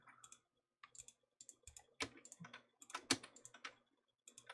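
A computer keyboard clicks in irregular bursts of keystrokes, close and fairly quiet, with short pauses between runs of typing and a denser flurry in the middle.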